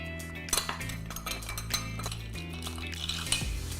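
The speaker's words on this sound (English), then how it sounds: "I'm just gonna mix these one more time" Spoons stirring Old Fashioned cocktails over ice in glasses, with repeated close clinks and rattling ice and a few sharper knocks of metal against glass.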